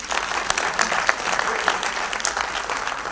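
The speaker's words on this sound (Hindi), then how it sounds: "Good boy, clap for him." An audience claps at an NSS national integration camp event, a dense, steady round of applause from a crowd with scattered louder claps standing out throughout.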